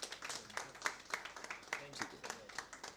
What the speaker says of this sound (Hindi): ताली बजाओ सबकी सब